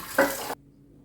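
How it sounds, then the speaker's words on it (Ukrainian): Boiling water poured off a pot of freshly cooked eggs into a sink, a short loud rushing splash lasting about half a second, then stopping abruptly into quiet. "Зварилися яйця, кипяток потрібно зараз вилити."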